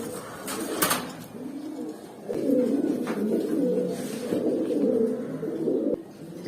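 Domestic pigeons, including a Hemar-type bird, coo in a steady, moderately loud run of low throaty phrases from a nearby loft, with a brief flutter or clatter near the start.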